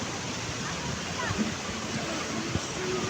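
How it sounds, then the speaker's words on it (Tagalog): Mountain river waterfall pouring along the riverbank, a steady broadband rush of falling water heard close and continuous, with faint indistinct voices beneath. "Sa bawat gilid po ng mga gilid ng ilog may mayroong parang falls."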